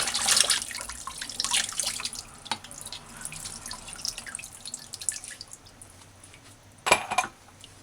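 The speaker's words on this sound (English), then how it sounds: "Let's take some water and just rinse it." Water splashes and drips while rinsing a clogged, flame-stained gas stove burner, with a running-tap spray, scattered drips and a louder splash near the end, heard close up.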